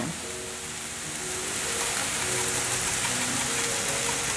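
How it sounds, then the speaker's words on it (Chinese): Cauliflower and vegetables seasoned with salt, five-spice and white pepper are stir-fried fast in a hot pan, giving a dense, continuous sizzle close up, with no talking. "快速翻炒"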